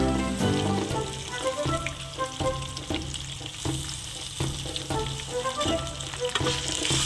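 Slit green chillies, curry leaves and grated raw mango fry in hot oil with a loud, crackling sizzle and frequent sharp spattering pops, close up, while a spoon stirs now and then.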